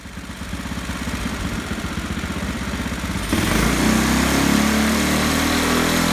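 Modified Predator 212cc single-cylinder engine running on a dyno without an air filter, a rapid buzzing putter that jumps to a louder, denser roar at wide-open throttle partway through, close and continuous.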